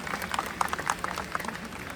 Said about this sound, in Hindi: एक बार जोरदार तालियों के साथ बता दीजिए।